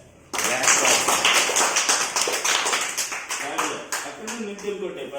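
Children clap their hands together during a classroom shapes activity, a fast run of sharp, close claps carrying on for several seconds, with a teacher's voice speaking over the end.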